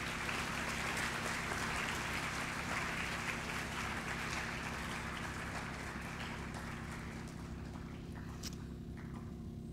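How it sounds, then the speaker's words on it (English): Boys at a school academic assembly give a round of applause, a broad, moderately loud clapping that runs on and slowly thins toward the end, with no talk over it. "Gentlemen, a round of applause, please."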